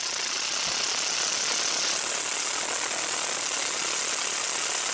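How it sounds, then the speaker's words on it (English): A Case 580C tractor diesel engine, freshly repaired after a loose tappet bolt, runs at raised RPM with a steady, loud, continuous roar throughout. "you can see here the engine running, and as we increase the RPM it's running real smooth"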